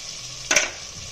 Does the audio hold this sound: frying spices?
yes